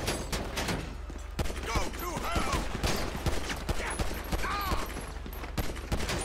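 Gunfire in the GTA 5 video game during a police patrol shootout: rapid, repeated shots crack in quick bursts throughout, with a speaking voice over the fire.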